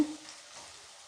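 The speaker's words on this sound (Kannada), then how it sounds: "ಈರುಳ್ಳಿ ಚೆನ್ನಾಗಿ ಫ್ರೈ ಆಗಬೇಕಾಗುತ್ತೆ" Onions frying in a pan with cinnamon, cardamom and cloves for a Kannada egg curry, a soft steady sizzle held at an even level throughout, with no talk.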